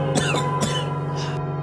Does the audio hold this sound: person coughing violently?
yes